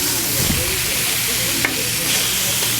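Lemon garlic chicken thighs sizzle on a grill, a continuous bright frying hiss with a few soft pops and a brief sharper crackle partway through, no one speaking.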